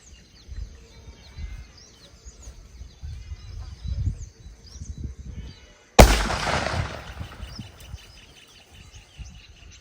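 A 10-inch nattu vedi firecracker bursts outdoors with one sharp, loud blast and a long ringing tail, after quiet seconds of chirping birds, insects and low rumble.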